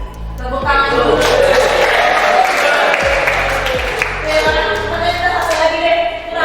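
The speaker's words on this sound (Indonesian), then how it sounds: "Tepuk tangan dulu." A classroom group breaks into applause, a dense burst of many hands clapping that fills the room at close range and holds steady for several seconds.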